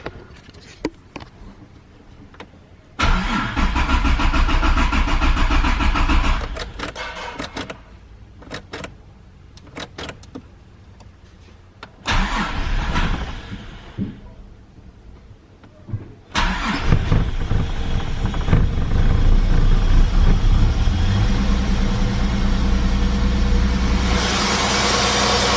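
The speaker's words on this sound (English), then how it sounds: "as you see, it takes a bit to start" Holden Commodore engine cranking in loud bursts, pausing between attempts, then catching and roaring into a steady run up close.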